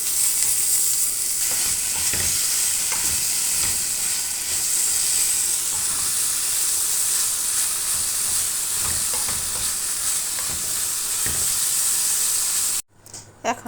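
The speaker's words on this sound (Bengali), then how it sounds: "সেদ্ধ সিম একটু তেলে ভেজে নিব পেঁয়াজ রসুনের সাথে" Boiled beans fry in oil with onion and garlic, a steady close sizzle with bursts of stirring scrapes throughout, ending abruptly in a brief quiet moment with a clatter.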